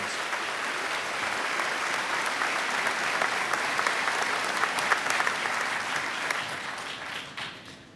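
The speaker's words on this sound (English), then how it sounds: "Please give all of these students a collective round of applause for their congratulations." At a 2019 KCC graduation, a large audience gives sustained, dense applause for the honor students, a steady roar of many hands for about seven seconds before tapering off at the end.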